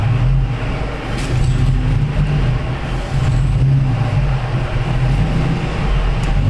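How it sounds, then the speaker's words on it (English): A car engine idling steadily nearby with its fuel pump disconnected, a loud continuous low rumble that holds an even level throughout. "The car's running like a champ with no fuel pump."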